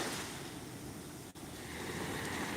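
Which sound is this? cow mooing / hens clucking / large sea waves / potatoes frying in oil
large sea waves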